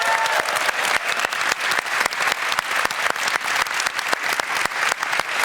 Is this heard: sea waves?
no